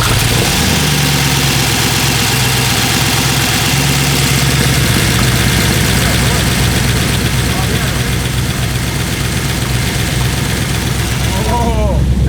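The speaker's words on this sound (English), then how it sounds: "It sounds like a V8 finally." A big-cam LS1 V8 swapped into a Nissan Z32 fires up and settles into a loud, lumpy idle, its steady rumble continuing throughout with voices speaking over it.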